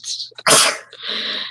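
A single loud, sharp sneeze up close, preceded by a quick breath and trailing off into a breathy exhale.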